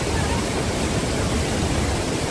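Rushing water of Bhalugaad waterfall fills the air with a steady, loud, unbroken roar that stays even throughout, with no distinct voices.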